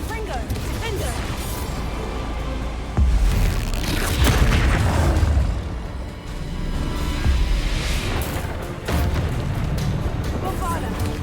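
Spell blasts from the video game Hogwarts Legacy, with heavy booming explosions and crackling impacts layered over continuous game music and effects, loud and dense, surging in several bursts across the stretch.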